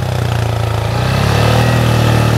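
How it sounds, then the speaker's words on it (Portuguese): Motorcycle engine held at a steady mid-pitched idle, then revving up as a learner slowly lets out the clutch to pull away, loud and close throughout. "E vai arrancar a moto."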